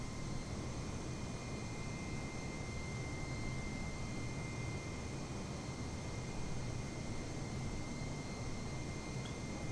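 An A320neo climbs out of Newcastle in Microsoft Flight Simulator, a steady, even engine roar and airflow drone held at a fairly low, constant level throughout, with no talking.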